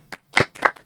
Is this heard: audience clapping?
yes